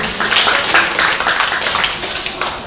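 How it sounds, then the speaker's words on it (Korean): An audience claps in a dense, continuous burst of applause at a live broadcast event, loud and close throughout. "큰 박수 부탁드리겠습니다."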